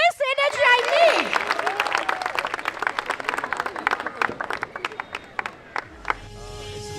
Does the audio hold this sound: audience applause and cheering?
yes